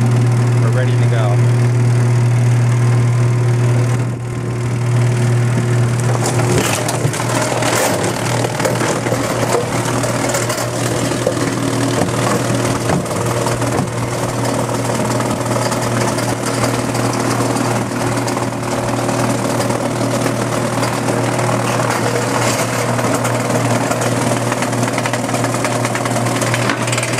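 A loud, steady mechanical roar of a food waste pulverizer with thrashing chains runs throughout, with a low droning hum and rattling, clattering texture and no clear speech.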